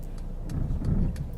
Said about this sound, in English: And then it brakes fully. Parking assist finish.